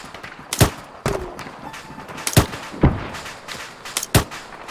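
Suppressive gunfire in the ArmA 3 video game: a series of sharp, loud single shots spaced irregularly about a second apart, with faint background rumble between them and no talk.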